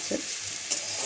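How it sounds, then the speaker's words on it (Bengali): Carrots and beans fry lightly in a pan, a soft steady sizzle close by with a brief stir of the spatula. "দেখুন অলমোস্ট একটু ভাজা ভাজা হয়ে এসেছে"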